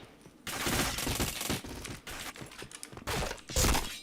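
Rapid bursts of video game gunfire, loud and close, with dense repeated shots in several volleys and a heavy boom near the end.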